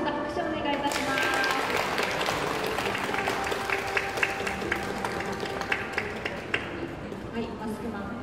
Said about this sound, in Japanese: 皆様もう一度拍手をお願いいたします。